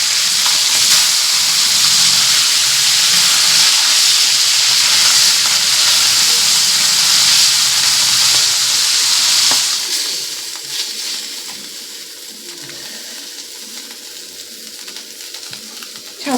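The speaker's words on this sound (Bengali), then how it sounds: "এবার মাছগুলোকে ভেজে নেব, এক একটা করে মাছ এখানে আমি দিয়ে ভেজে নেব" Pieces of bhola fish fry in hot oil one at a time, giving a loud, continuous sizzle and hiss that softens after about ten seconds as the frying dies down, with no voices.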